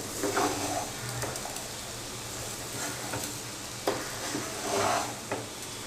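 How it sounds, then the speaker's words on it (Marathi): Sugar being gently stirred by hand into sweet saffron rice with cardamom in a pot, giving soft, close scraping and rustling swishes in uneven strokes, with no voices. "आता आपण हे मिक्स करून घेणार आहोत अलगत हाताने आपण हे मिक्स करायचं आहे"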